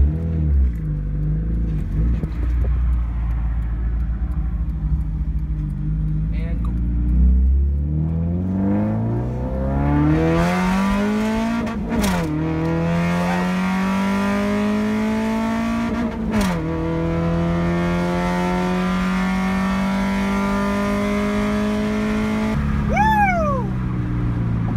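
A Honda Integra with a K20 engine revs hard while racing, repeated climbing gear pulls with loud rasping exhaust and brief dips at shifts, heard from inside or nearby over a steady road roar.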